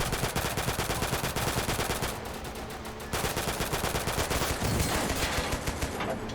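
Gunfire in the video game Total Conflict: Resistance comes as loud, rapid automatic bursts, dense and continuous with a brief lull in the middle, and no talking over it.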